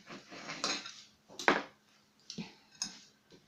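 A knife cuts through a lemon on a board, giving several short, close slicing and tapping knocks in an uneven rhythm, with no one talking.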